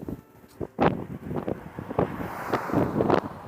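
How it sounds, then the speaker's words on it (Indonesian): Strong, gusty wind in Miyazaki, Japan buffets the microphone in rough, uneven rumbles while a voice talks over it. "Anginnya besar"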